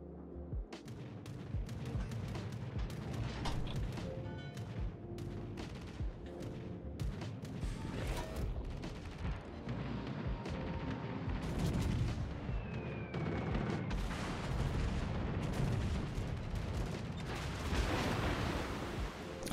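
Naval gun salvos thunder in a World of Warships–style warship game, heavy booms and rolling gunfire layered over continuous battle noise for the whole stretch, loud and dense without a break.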